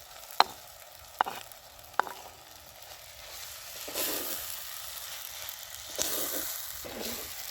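Boiled budama kaya pieces are stirred into tomatoes frying in oil, making a soft sizzle with three sharp utensil taps against the pan followed by scraping stirs.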